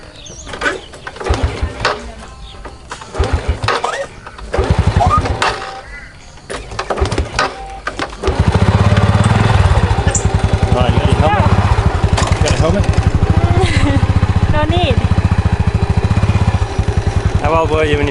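A scooter engine runs steadily in Chaiyaphum, Thailand, a close, continuous motor drone that starts partway through and holds under people talking and chatting over it.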